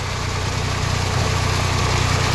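An old-model Swaraj 744 FE tractor drives a rotavator with a steady, loud, low diesel drone and rhythmic throb, close by and continuous, with no voices.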